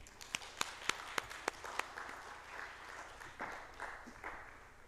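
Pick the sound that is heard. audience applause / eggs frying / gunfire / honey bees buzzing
audience applause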